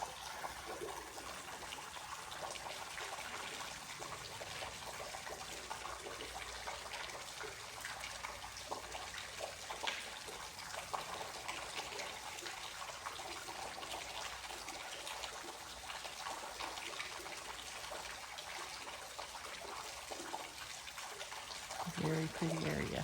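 A stream trickles and gushes steadily along the 7 Hollows hiking trail in Petit Jean State Park, a continuous close wash of running water that fills the whole stretch without a break.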